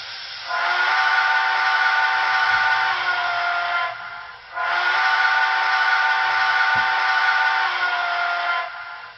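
A Broadway Limited Paragon 4 model of a Southern Pacific GS-4 steam locomotive sounds its steam whistle in two long, loud, clear blasts separated by a brief pause, close and without talking.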